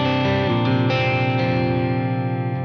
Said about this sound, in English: Something else I might do is throw in a little bit of compression.